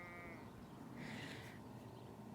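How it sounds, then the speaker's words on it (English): A young sheep bleats once, a wavering mid-pitched cry that rises over steady background noise at moderate distance, faint overall. "There's a sheep just came up there"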